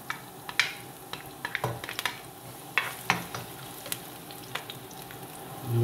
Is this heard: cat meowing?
no